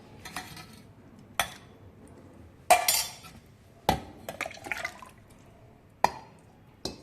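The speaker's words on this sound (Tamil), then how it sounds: "இப்போ மிக்ஸி ஜாரில் மாற்றிக்கலாம்." Soft wet scraping and clinking as soaked amla and curry leaves are scooped into a mixer jar, several sharp knocks and clatters spaced irregularly over a quiet background.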